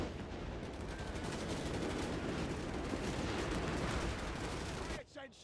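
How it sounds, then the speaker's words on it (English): An artillery barrage in a multiplayer battle video game, heard as a loud, dense wall of rapid bangs and rumbling impacts that runs nearly five seconds before cutting off abruptly. "Artillery barrage on the way."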